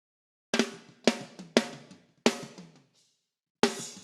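A drum or percussion loop passes through an SSL compressor with fast attack mode on, giving five sharp, punchy hits with clamped transients and short tails, separated by silence.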